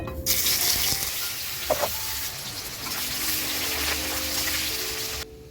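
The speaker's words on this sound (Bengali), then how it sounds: "এখন তেলটা গরম হয়ে গেছে, আমি এখন কাঁঠালগুলো একটু হাফ হাফ করে ভেজে তুলব।" Jackfruit pieces fry in hot oil with a steady, hissing sizzle close by, holding fairly even before cutting off abruptly near the end.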